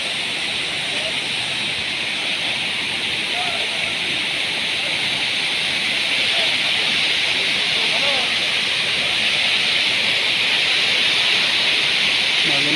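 Steady broadband rush of a mountain waterfall along the Goecha La trek in Sikkim, a constant close roar filling the whole scene without pause, with faint voices now and then underneath.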